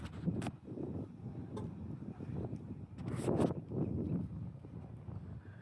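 Strong wind buffets a Google Pixel 9 Pro XL phone microphone outdoors in rumbling, uneven gusts, swelling louder around the middle, with no voices.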